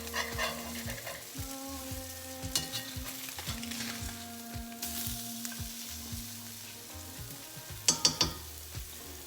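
Blackened tilapia frying in a Cuisinel skillet, a steady sizzle with scraping and stirring clatter, a few sharper clinks near the end.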